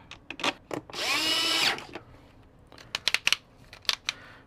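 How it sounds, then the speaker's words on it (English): On a 2006 Dodge Ram dashboard, a power drill with a torque limiter spins out a screw in one short whirring burst, followed by scattered light clicks and rattles of handled parts. "make sure you got a drill, if you're using one of these, with a torque limiter on it"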